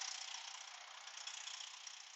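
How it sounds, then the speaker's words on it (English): Freightliner Cascadia diesel truck engine idling with a steady, even mid-to-high pitched hum and faint ticking rattle, heard close and continuous without talk. "So that's our engine running."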